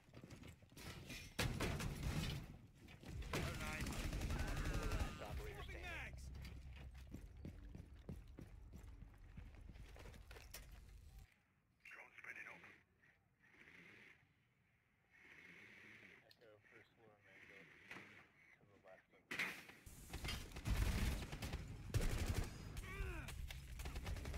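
Rapid gunfire bursts from a Rainbow Six Siege match, loud and dense at the start and end with quieter mechanical clatter in between, under game noise.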